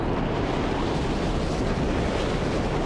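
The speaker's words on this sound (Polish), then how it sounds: "aktualnie burza piaskowa wieje mi prosto w twarz" Sandstorm wind in the Mad Max video game roars in a dense, constant blast of noise, loud and unbroken throughout, with no voices over it.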